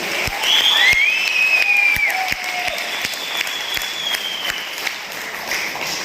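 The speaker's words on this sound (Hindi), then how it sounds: "संजय शर्मा जी के लिए एक बार जोरदार तालियां होगी" A crowd applauds a speaker at a celebration event in Hisar, clapping loud at first and then easing off a little, with a few sharp distinct claps and a high whistle-like tone over the crowd.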